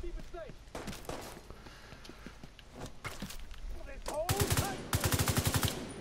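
Gunfire in Tom Clancy's The Division 2, with scattered single shots early and then dense rapid automatic bursts near the end, loud and close, while voices talk over the action.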